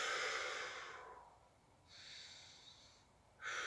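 Slow, deep breaths drawn during a standing stretch with palms pressed together, three breaths with audible airy hiss, quiet and close with pauses between.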